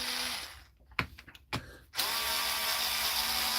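Screws are backed out with a whirring, ratcheting power tool in a few short bursts separated by brief pauses, close and fairly quiet, with no talk.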